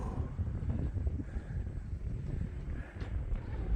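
Strong wind on Coronet Peak, New Zealand, buffeting the microphone as a steady, loud low roar with gusty swells throughout, no one talking.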